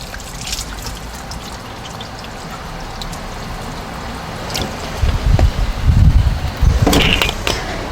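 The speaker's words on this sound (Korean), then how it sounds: "이렇게 따라내면요 속의 물은 깨끗해요." Water pours and trickles off pickled mulberry leaves, starting as a faint, steady dribble and swelling into a louder, gurgling pour near the end, up close and with no talking.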